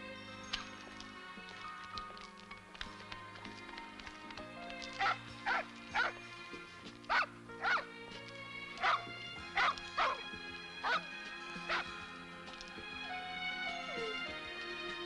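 A dog gives a run of short, sharp yips and barks in a regular series through the middle of the stretch, close and clear over a soft musical background.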